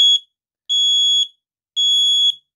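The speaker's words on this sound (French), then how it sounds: "Voilà, ça sonne fort." A First Alert SA 700 smoke detector sounds its alarm: three loud, piercing, high-pitched beeps with short silent gaps between them. The tone is close and steady, with no talking.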